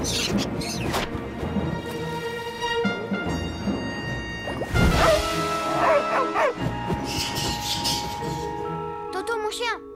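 Cartoon dog barking in an animated children's show, several yips and short barks scattered among voices speaking, sound effects and light music.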